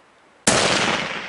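A single rifle shot fired on a Montana bear hunt cracks suddenly after a quiet moment, very loud and close, then trails off in a long rolling echo.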